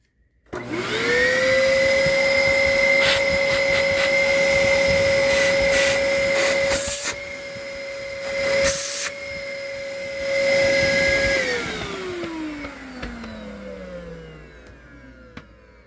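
A Dyson vacuum cleaner, running without its cyclone but with the filter in, whines loudly and steadily with a couple of brief bumps, then is switched off and its motor slowly winds down in falling pitch.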